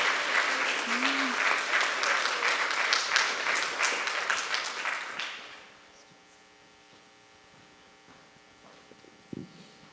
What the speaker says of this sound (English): So another round of applause for this glorious group and all the presenters